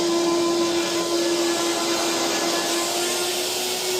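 A vacuum cleaner with strong suction, pulling up cat hair, runs as a loud, steady, close drone with a fixed whine for the whole stretch, and no talking.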